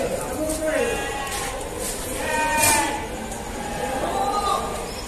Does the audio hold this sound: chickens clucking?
no